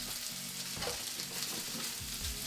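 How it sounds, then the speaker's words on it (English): Chicken sears in olive oil in a nonstick pan, a steady close sizzle running throughout with soft stirring scrapes and no talk, part of a blackened chicken Alfredo dish. "We're gonna add some olive oil into a nonstick pan, and we're gonna start searing it."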